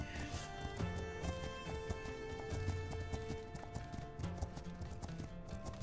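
Steady clip-clop of horse hooves trotting at an even pace, with sustained musical tones running underneath throughout.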